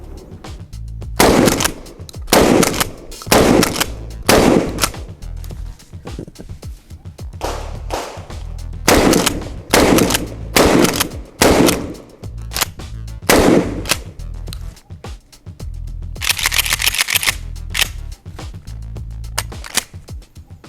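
Shotgun firing repeatedly with a Vector Optics Frenzy-S enclosed red dot sight mounted, around a dozen loud close blasts in irregular bursts, separated by short pauses of handling noise.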